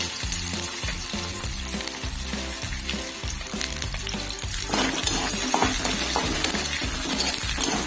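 Onions fry loudly in hot oil after mustard seeds have crackled, for an Odia santula: a dense, continuous sizzle with faint stirring scrapes, swelling louder partway through.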